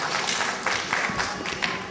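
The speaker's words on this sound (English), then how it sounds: "A big round of applause." A crowd at a kids' school annual day event applauding, a dense, loud burst of many hands clapping with some irregular louder claps, continuous and close.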